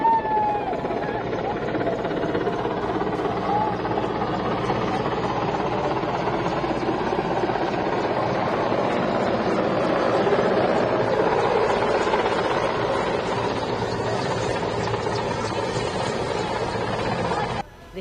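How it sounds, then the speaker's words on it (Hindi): Mi-17 helicopters hover overhead during an air show rehearsal at the Pushkar fair, making a loud, steady rotor and engine drone that stays constant for the whole stretch. "आकाश में Mi-17 हेलीकॉप्टर मंडराने लगे"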